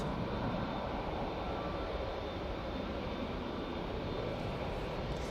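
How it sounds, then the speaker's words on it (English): A TUI Boeing 737 airliner departs Manchester Airport bound for Skiathos, its jet engines a steady, broad roar heard from a distance and holding evenly throughout, with no voices. "That TUI 737 is now on its way to Skiathos."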